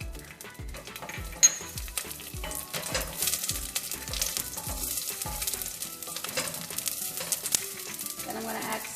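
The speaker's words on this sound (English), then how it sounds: "And then I'm going to add some whole garlic in there." Whole garlic cloves frying in olive oil for homemade Italian spaghetti sauce, a steady close sizzle with recurring low thumps and utensil scrapes as the pan is stirred, no talking.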